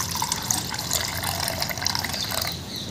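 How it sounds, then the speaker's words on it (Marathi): Clean water poured over washed chana dal in a vessel, a continuous close splashing gush with bubbly trickles, steady for a few seconds with no talk. "आता या डाळीमध्ये आपल्याला स्वच्छ पाणी घालून घ्यायचं आहे."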